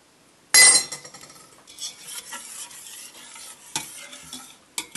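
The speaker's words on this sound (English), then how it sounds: "Mix them all together." Sesame seeds are stirred by spoon into a mixture for Greek moustalevria, a close scraping, clinking stir that starts abruptly and carries on in irregular strokes with a faint sizzle-like hiss, no voices.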